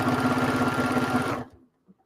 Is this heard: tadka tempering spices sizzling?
no